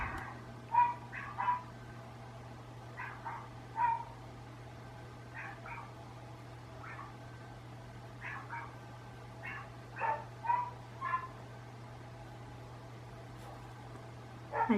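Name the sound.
dogs barking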